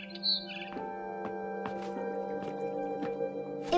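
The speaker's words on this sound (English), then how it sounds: "It was a barn swallow going back to her nest." A barn swallow chirps outside a window, giving short, bright, repeated tweets over a faint steady background hum.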